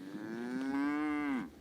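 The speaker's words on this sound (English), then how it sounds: "These friendly cows" A single cow gives one long, clear moo that holds steady and then drops off, close by and alone in a quiet, isolated village.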